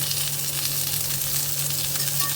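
Stuffed bitter gourds frying in oil in a pan, a steady close sizzle with a low constant hum beneath it and no talking.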